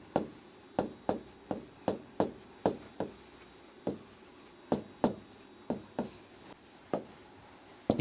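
Repeated short chalk-like strokes of handwriting on a board, about a dozen distinct scratchy taps and scrapes in an irregular rhythm, close and clear with no talk.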